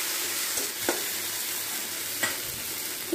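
Ground spices, coriander-cumin powder and Kashmiri red chili, sautéing in a hot pan with a close, steady sizzle, broken by a couple of brief scrapes of a stirring spoon.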